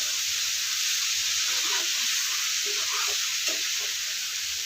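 Banana stem and shrimp being stirred in a frying pan, a steady sizzle with soft scraping strokes running throughout, fairly close and without talk.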